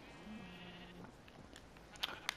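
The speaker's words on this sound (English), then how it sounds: "Why are there so many sheep?" Sheep bleat in the video game Minecraft, a single quavering bleat early on, fairly quiet, followed by a few short clicks.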